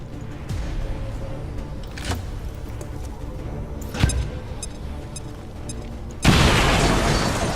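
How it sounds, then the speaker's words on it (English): A grenade detonates in the XCOM 2 strategy game, a sudden loud burst that cuts through the ongoing game soundscape near the end, preceded by a few smaller thuds and pops. "Grenade out!"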